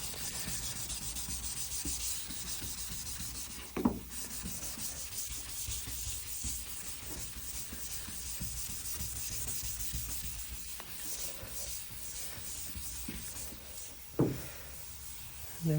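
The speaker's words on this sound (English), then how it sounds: "Now I got the primer area sanded" Steady abrasive sanding of clearcoat and primer on a truck hood, a continuous close scratchy rub with a couple of brief knocks, no talking.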